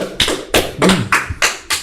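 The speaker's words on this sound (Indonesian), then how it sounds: "Tepuk tangan" Hands clap sharply six times in an uneven rhythm, each smack close and crisp with brief gaps between, with no other sound around them.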